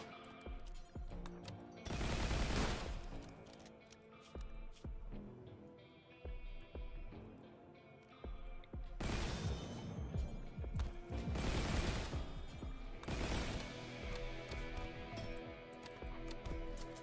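Shotgun blasts in the colony game Rimworld, several separate booming bursts spaced a few seconds apart, fairly quiet overall, over a dense background of game noise.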